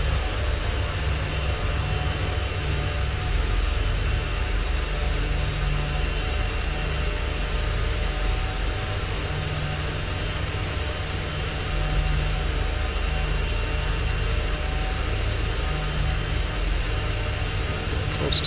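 Steady aircraft engine drone from the X-Plane 10.5 flight simulator game during a glide toward a short runway, a constant low hum with a whining tone, loud and unchanging throughout.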